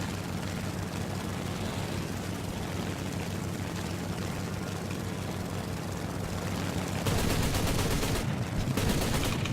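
Aircraft machine guns firing in a combat flight video game over a steady engine drone, with rapid bursts growing louder toward the end, no talk.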